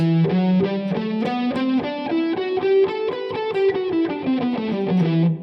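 Distorted electric guitar picks a seven-note scale note by note, climbing then descending in an even rhythm, loud and close with no talking.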